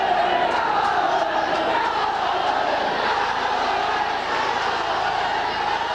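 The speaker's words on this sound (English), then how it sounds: "The crowd doing their best to lift the spirits of a disbelieving Oldham team" A football crowd at Boundary Park roars and chants in a dense, sustained wash of voices, loud and continuous throughout.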